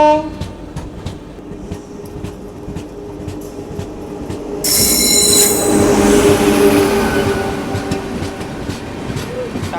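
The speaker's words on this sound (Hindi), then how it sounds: "ये कोई तो ट्रेन आ रही है देखो, ट्राई कलर वेब 7 के साथ, ट्राई कलर P7" The Tatanagar Ernakulam Express, hauled by a tricolour WAP7 locomotive, roars past close by, its wheels clattering rhythmically over rail joints before a louder squealing rush of passing coaches takes over partway through.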